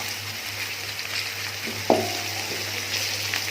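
Onion with turmeric fries in a pan, a steady, moderate sizzle with a low hum beneath and a single sharp clink of a utensil partway through.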